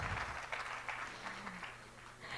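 Audience at a business summit applauding: a steady wash of clapping from many hands, moderately loud and even, with no talk over it.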